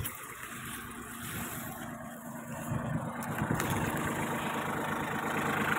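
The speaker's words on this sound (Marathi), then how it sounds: "दोन ट्रॅक्टर काम चालू आहे" A Kubota 21 hp mini tractor with a rotavator runs steadily on farmland, its mid-pitched engine droning continuously and growing slightly louder toward the end, with a faint high whine above.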